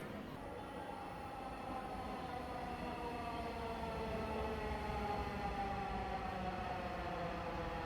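A Dhaka metro train pulls into the station at night, a steady loud rumble of rolling wagons with rising wheel and motor tones building over nearly eight seconds and no talk.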